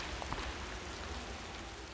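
Steady rain falls in the video game Raw Danger, a constant broadband hiss of drops on surfaces with occasional nearer splashes, continuous and moderately loud with no voices.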